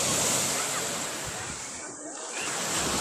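Sea waves at a crowded, salty beach under an overcast sky, a steady loud wash of surf with wind rushing across the microphone, continuing unbroken throughout.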